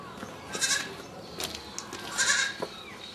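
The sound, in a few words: young goat bleating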